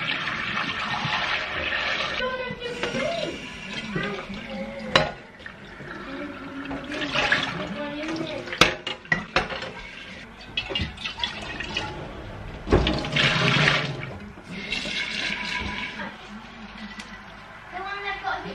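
Water runs and splashes as a container is emptied and refilled in a kitchen, coming in uneven surges and pours with a few sharper knocks. Voices talk over much of it.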